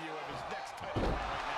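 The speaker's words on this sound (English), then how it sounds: "and slammed to the mat." A wrestler slammed onto the mat during a televised Friday Night SmackDown match, a single heavy thud about midway through, with crowd noise throughout.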